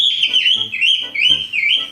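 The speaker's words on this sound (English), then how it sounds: "he's just gonna go back and chirp again" A pet bird, Lannister, chirps and whistles repeatedly up close in a home, a bright, wavering high call running almost continuously with small breaks.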